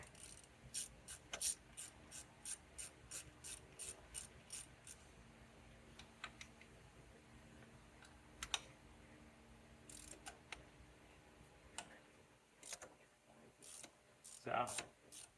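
Ratchet wrench clicks rapidly in short bursts while a 15 mm tensioner bolt is loosened on a Chevy 5.3L V8 engine, a faint, close metallic ticking with pauses between runs and a clunk near the end.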